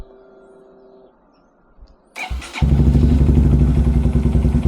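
A 2025 Honda Grom SP motorcycle fitted with a ZoOM Loop exhaust starts up after a quiet pause, its starter catching and the engine settling into a loud, steady, close idle.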